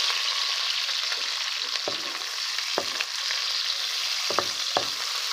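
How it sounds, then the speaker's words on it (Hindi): Chopped onions fry in very hot ghee with a loud, continuous close sizzle, punctuated by several sharp spoon taps and stirs against the pan. "अब प्याज को अच्छे तरीके से हम इसके अंदर फ्राई करेंगे"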